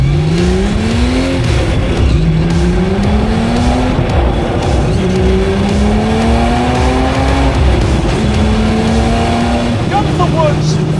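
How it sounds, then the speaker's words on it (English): A Guntherworks 4-liter turbocharged test car is driven hard, its engine rising through repeated upshifts in a steady climbing pattern with tire noise beneath, heard from close by with a voice talking over it. "Guntherworks 4-liter turbo test mule that I'm driving"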